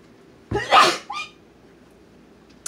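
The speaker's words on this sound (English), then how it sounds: "I gotta sneeze again." A single loud, sharp sneeze up close, followed by a brief breathy vocal sound, then quiet room tone.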